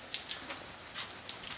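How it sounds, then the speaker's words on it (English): Heavy rain falls outside a shop in a downpour, a dense steady hiss of drops striking surfaces, close and continuous with no talk. "it is raining cats and dogs"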